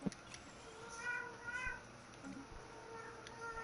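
A domestic cat meows a couple of times close by, short rising cries over a low steady background hum, with no talking.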